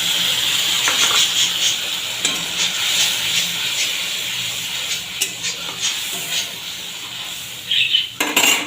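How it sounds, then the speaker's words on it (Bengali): Spices tipped onto onions frying in a pan, with a steady close sizzle, scraping stirs and clinks of utensil against metal throughout and a few sharper knocks near the end. "এবার আমি এই মশলাটা দিয়ে দেবো"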